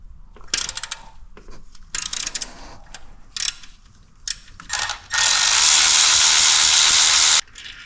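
A 1/4 inch ratchet or driver working a tight cam ledge bolt on a BMW S55 engine, in short clicking bursts with pauses, followed by a long, loud continuous whir of the tool spinning the bolt out.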